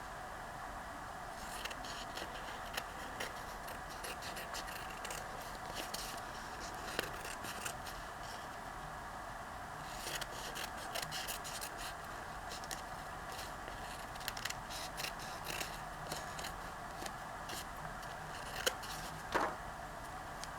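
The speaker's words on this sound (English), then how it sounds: "Now I'm going to cut out this part." Scissors cut out a paper pocket piece for a journal, giving a long series of faint, close snips and crisp paper clicks at an irregular pace, with no talking.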